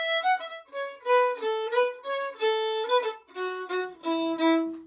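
A fiddle plays a short lively introductory phrase for a folk big band, a sequence of clear bowed notes stepping through a tune, close and solo with no talking.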